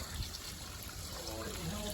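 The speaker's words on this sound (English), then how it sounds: "And then of course the water flows." Hot spring water trickles and flows steadily into a foot bath, a soft continuous splashing wash heard from close by without talking.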